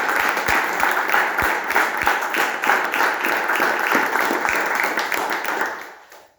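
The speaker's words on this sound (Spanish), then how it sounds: "no está mal aplaudir a ella y a todas las mujeres" Warm applause from an audience at a book presentation in Perón's house, steady clapping from a roomful of people that holds for several seconds and then quickly dies away at the end.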